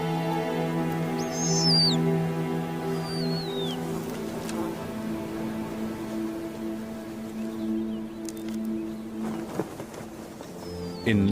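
Snowy owl chicks call from a shallow scrape on the open tundra, giving a few high, thin, wavering cries over a steady low background drone, with no one talking.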